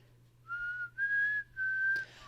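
A person whistles a short four-note tune from the Hunger Games, clear and close, with sustained pitched notes and brief gaps, alone without talk.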